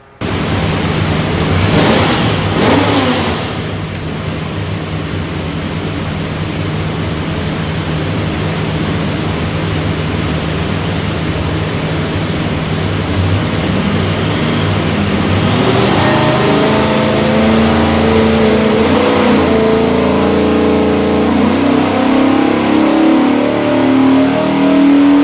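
A Ford 427 V8 running on a dyno for a '64 Galaxie build roars loudly and continuously, holding a steady heavy drone before the pitch climbs as the engine revs up through the pull.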